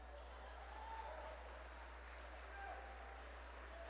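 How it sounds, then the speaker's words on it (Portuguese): Church congregation applauding together, a faint, steady wash of distant clapping over a constant low electrical hum, fairly even in level throughout. "Jesus merece uma salva de palmas"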